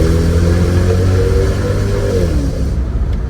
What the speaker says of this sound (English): And the V8 sounds great, of course.